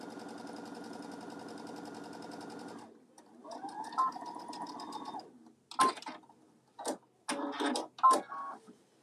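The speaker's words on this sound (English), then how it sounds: "We'll be top stitching a lot" Sewing machine top stitching a farmhouse apron, a steady close run of rapid stitching for about three seconds, then shorter stop-start bursts of stitching with handling noises between them.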